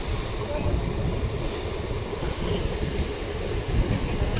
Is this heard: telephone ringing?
no